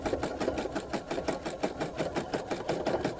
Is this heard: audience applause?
no